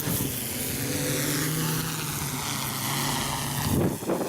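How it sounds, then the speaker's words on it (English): A drone carrying a taped-on gimbal hovers nearby, its propellers producing a steady buzzing whine with a sustained tonal hum that shifts in pitch near the end. "I got the drone flying."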